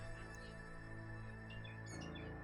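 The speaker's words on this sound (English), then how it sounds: "God, the birds are really fucking noisy, man." Birds chirp outside in faint, high, scattered tweets over a steady tonal background hum.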